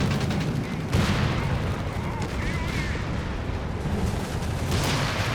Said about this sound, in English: Machine gun team.